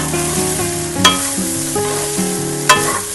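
Egg fried rice sizzles steadily in a hot pan while a spatula stirs and tosses it, with two sharp metallic scrapes standing out over the continuous frying.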